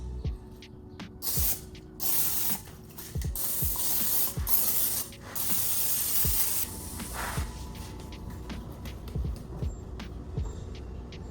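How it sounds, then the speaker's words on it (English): Several short hissing bursts of cooking spray coat a baking pan for hot cross buns, close and fairly quiet, with small clicks and clatter between sprays. "I'm going to spray a pan."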